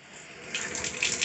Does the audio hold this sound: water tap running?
yes